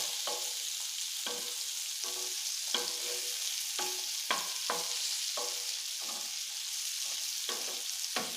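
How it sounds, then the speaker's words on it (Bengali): Capsicum frying and being turned in a pan over low flame, with a steady soft sizzle and about a dozen sharp, evenly spaced scrapes or taps of a spatula, close by and without voices. "উল্টে পাল্টে দু পিঠটা একদম সুন্দর লাল লাল করে ভাজা ভাজা করে নিতে হবে।"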